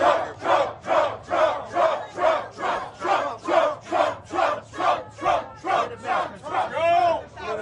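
Large crowd at a Trump campaign stop in Philadelphia chanting in unison, about sixteen loud rhythmic rising shouts in steady succession, close and full.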